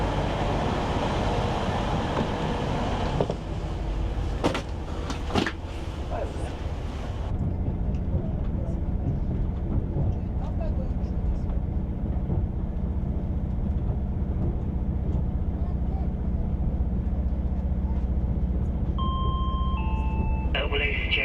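A passenger train coach interior rumbles at a steady low drone while riding, with a few sharp clanks early on and faint chime-like tones near the end.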